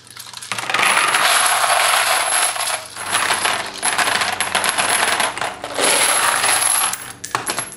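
Brass .223 cartridge cases handled in bulk for reloading, metallic jingling and clinking as they are scooped and shaken, loud and close in several continuous bursts with short pauses between, no talk.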